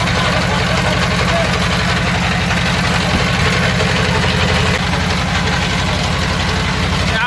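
Trawler boat engine running on the Karnaphuli river, a loud, steady low chugging throb that continues unbroken throughout, close by and dominating the sound.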